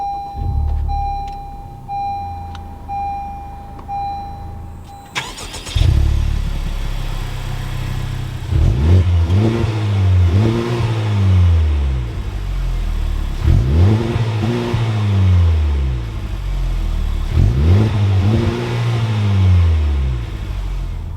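A 2021 Honda Civic Type R starts up after a chime, its engine catching with a loud burst and then settling to a low idle, followed by three sharp revs that rise and fall at regular intervals, close and loud.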